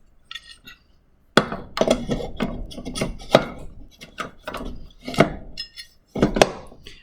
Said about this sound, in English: you just want this to hook into that right there